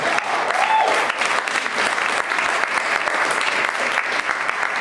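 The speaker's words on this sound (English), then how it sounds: "So we should get a round of applause for that" A crowd claps and cheers in sustained, loud applause, a dense, even roar of many hands with a brief whistle early on.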